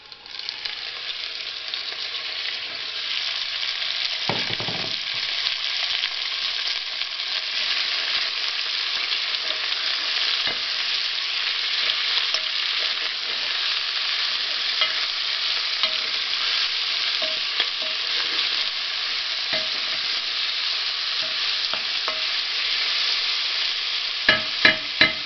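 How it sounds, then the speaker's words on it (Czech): Meat frying on onions in a pan sizzles steadily and close for the whole stretch, with an occasional clink or stir near the start and at the end. No one speaks. "Na cibulku přihodím naše maso."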